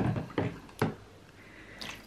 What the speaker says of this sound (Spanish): echar el agua caliente